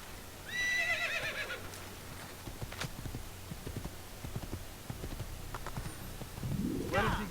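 A horse in the Assassin's Creed video game neighs loudly, then its hooves clip-clop steadily at a trot, close and clear, with a second whinny near the end.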